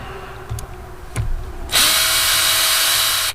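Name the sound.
cordless drill removing screws from a 1948 Willys Jeep steering wheel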